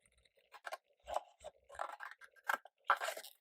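Scissors snip through paper card to cut away a section of a roll-top box template: a close, quiet run of short crisp cuts and crunches in uneven bursts.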